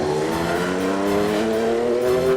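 IndyCar race cars at speed on a road course during the Grand Prix of Louisiana, a loud sustained engine whine with rising pitch as cars pass, steady and continuous without talk.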